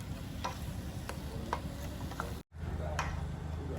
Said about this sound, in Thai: แล้วก็ผัดครับทีนี้ ผัดไฟอ่อนๆ